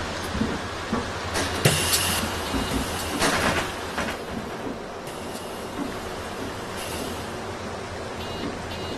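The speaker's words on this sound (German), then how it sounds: "Oh, Regen." Steady rain hisses in the bus simulator game OMSI 2, a soft constant wash with a few brief louder bursts and a low rumble underneath, fading slightly over time.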